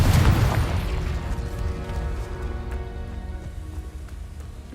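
A Confringo explosion spell going off in Hogwarts Legacy, a loud booming blast at the start that fades into a long rumbling, crackling decay.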